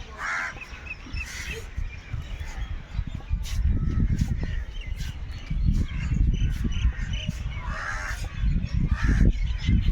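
Crows cawing outdoors, harsh calls repeated in irregular bursts against a rough, rumbling background.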